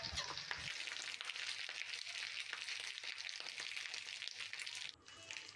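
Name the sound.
marinated crabs frying in mustard oil on a griddle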